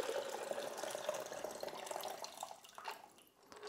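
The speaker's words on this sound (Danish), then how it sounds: "Så nu fylder jeg det porøse hulrum med vand" Water poured over a gravel sample in a measuring container fills the pore spaces, giving a soft, steady trickle and gurgle close by that eases off toward the end.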